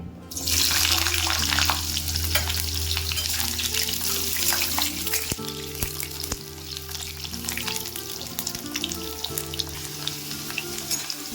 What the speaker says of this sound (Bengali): তেলটা ভালোভাবে তেতে গিয়েছে এর মধ্যে ডাটাগুলোকে আমি দিয়ে দেব